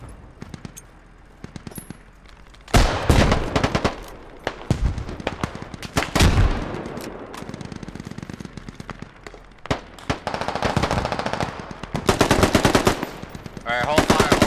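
Bursts of automatic and single-shot gunfire from the Squad military video game, in a modded Middle East invasion scenario, crack loudly in irregular clusters separated by brief quieter gaps, with faint player voices in between.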